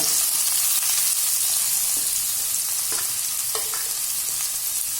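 Sliced onions sauté in oil in a pan for a chicken roast, a steady loud sizzle with a few soft stirring scrapes throughout, with no one talking.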